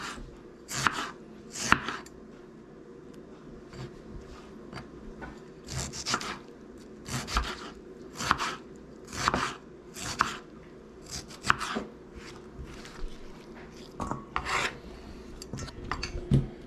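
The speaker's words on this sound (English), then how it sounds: "that's how Avril slices her tomatoes" A knife slicing through tomatoes on a cutting board, making a series of short, separate strokes at an uneven pace, close and fairly quiet, with no talking.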